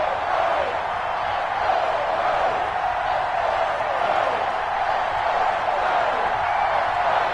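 Stadium crowd noise from an EA Sports NFL game on PS4, Bears versus Giants, a steady dense roar of cheering that holds at an even level throughout with no talk over it.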